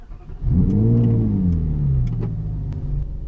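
A 2011 Ferrari 458 Italia V8 fires up with a loud rising rev that settles into a strong, steady idle burble, heard alone and close.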